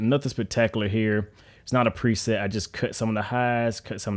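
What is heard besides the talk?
No distinct noise like a dog, phone or traffic.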